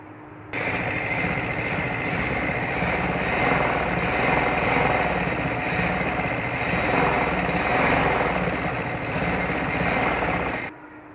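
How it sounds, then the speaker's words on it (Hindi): A sewing machine stitching an umbrella-cut baby frock runs in one steady, close whirring hum for about ten seconds, then stops. No voices. "और एंड तक हम इसी तरह इसकी सिलाई लगा देंगे"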